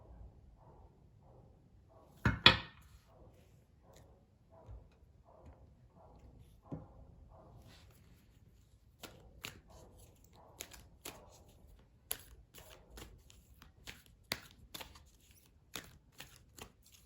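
Tarot cards are shuffled by hand in soft, rapid riffling bursts, close and quiet, followed by a sharper snap and scattered light clicks and taps of cards being handled.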